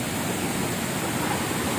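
Floodwater of the Tonlob River rushing in a steady, loud, broadband roar, unbroken and close, with no voices over it.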